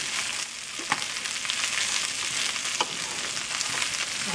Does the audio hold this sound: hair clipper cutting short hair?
no